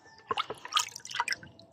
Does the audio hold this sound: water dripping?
yes